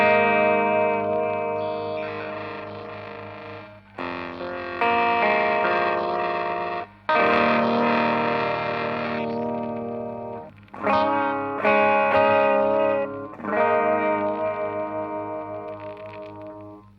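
Electric guitar through a Strymon Mobius pedal's sample frequency effect, gritty and lo-fi, ringing chords struck in repeated phrases that decay between hits, with a grainy, crunchy texture.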